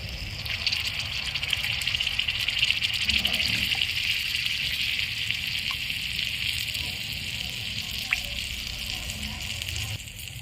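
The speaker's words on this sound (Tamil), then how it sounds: "இப்போ நான் இதில் கொஞ்சோண்டு தண்ணி ஆட் பண்ணிக்க போகிறேன்." Water poured into village-style fish kulambu frying in plenty of oil, a loud hissing gush and sizzle that holds steady throughout.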